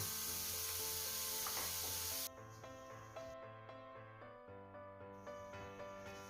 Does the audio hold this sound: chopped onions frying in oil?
yes